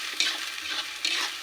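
A spatula stirs food frying in a pan with a ground paste, turmeric powder and salt, making quick scraping swishes over a soft sizzle.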